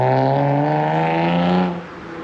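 Nissan Pulsar SSS with an SR20 engine revving hard and held high, a loud strong harmonic drone close by that drops away sharply near the end as the throttle is released.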